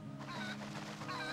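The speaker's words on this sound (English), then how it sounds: "And he calls a golden chicken?" Golden chicken in the video game Zelda: Twilight Princess clucking in short, close bursts over a faint background hum.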